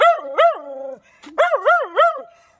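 Dog barking at close range outdoors during a neighbour's house move, a series of loud, yelping, whiny barks in two clusters separated by a short pause.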